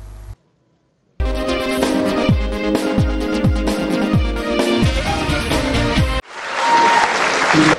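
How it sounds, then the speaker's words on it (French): Loud, sustained applause and cheering from a packed conference hall crowd, with steady clapping that swells after a brief pause and continues strongly to the end. "Une salle de conférence pleine à craquer, des acclamations nourries et prolongées"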